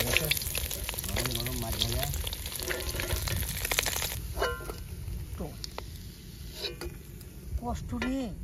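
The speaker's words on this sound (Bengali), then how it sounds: "মাছ ভাজা আমাদের কমপ্লিট" Fish frying in oil during a night cook-out by a river: steady sizzling hiss, loud at first and quieter later, under people talking, with faint insect buzz in the background.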